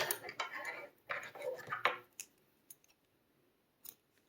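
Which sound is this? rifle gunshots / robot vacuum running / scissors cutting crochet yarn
scissors cutting crochet yarn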